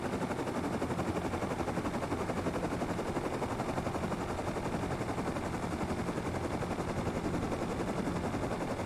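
Gunfire in the survival video game Rust, a dense, steady run of rapid shots holding at an even level throughout, with no talk over it.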